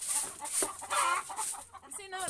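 Chickens clucking on a village poultry farm in Kenya, a flock of close birds with overlapping clucks and squawks, some higher cries, and voices faintly in the mix.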